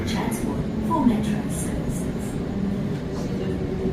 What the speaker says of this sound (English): There's one just going past there the other direction.